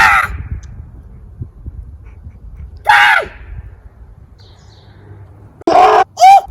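A person perched in a tree imitates bird calls with short, loud caw-like shrieks, two separated bursts early on and a rapid pair near the end, over faint outdoor background.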